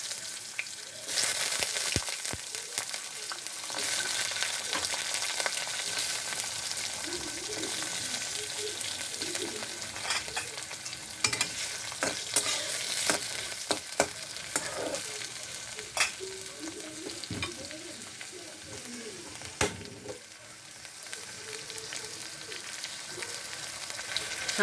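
Potatoes fry in a pan with fenugreek seeds and chili flakes, giving a loud, continuous sizzle that lasts throughout, broken by scraping and clattering as the pan is stirred.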